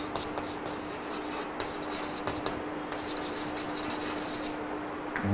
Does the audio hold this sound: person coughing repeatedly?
no